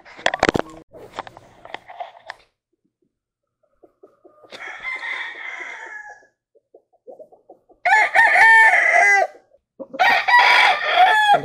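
Roosters crow loudly nearby, several long calls spaced apart, with chickens clucking and scattered farmyard noises between them.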